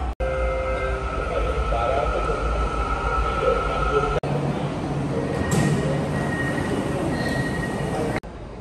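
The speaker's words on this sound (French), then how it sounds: "Les trains de banlieue sont eux aussi très propres et sans nuisance." A Kuala Lumpur suburban commuter train rumbles steadily, with tonal whines and brief clicks as it runs, and a high squeal partway through; no talking is heard.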